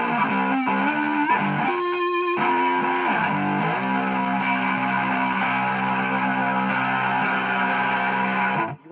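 An electric guitar tuned close to open G rings through an extreme distortion effect, with thick, sustained buzzing chords that shift pitch several times before cutting off abruptly at the end.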